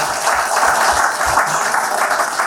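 An audience at a poetry recital breaks into steady, dense applause, a loud continuous wash of clapping held throughout with no voices over it.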